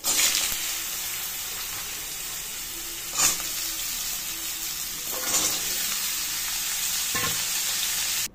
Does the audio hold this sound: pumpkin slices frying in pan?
yes